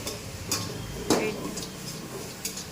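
Hakka noodles cook in a busy cafe kitchen, with scattered metallic clanks and utensil scrapes against a pan over a steady background hum, and faint voices in the background.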